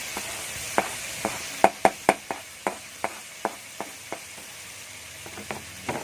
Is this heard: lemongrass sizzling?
yes